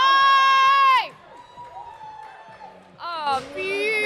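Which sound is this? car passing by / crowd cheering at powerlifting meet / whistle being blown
crowd cheering at powerlifting meet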